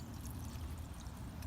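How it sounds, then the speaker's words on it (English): A Poposoap solar fountain head churns water in an outdoor bird bath, a brief, steady close-up trickle and bubbling without a break. "I chose this head because it keeps the water moving, but it doesn't throw the water out of my bird bath."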